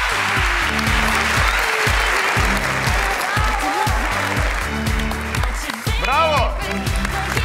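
Loud audience applause rolls through a talent show stage on Yetenek Sizsiniz Türkiye, dense clapping over a rhythmic beat, with a voice calling out briefly amid the noise.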